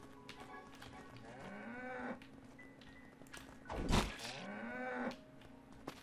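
Cows in the video game Craftopia moo several times at moderate distance, with a loud thump near the middle and faint game background sounds.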